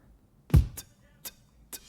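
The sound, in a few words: beatbox with heavy reverb and saturation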